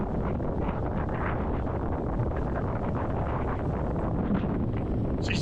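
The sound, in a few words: wind blowing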